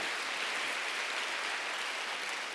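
A church congregation applauding during a Sunday worship service, a dense, even wash of many hands clapping at once, continuous and fairly distant.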